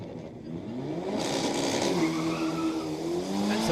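A Mercedes-AMG launches off the line in a drag race at the Liqui Moly Drag Wars 2024 event. Its loud, close engine note climbs steadily in pitch as it accelerates, with a hint of tire squeal and no talking.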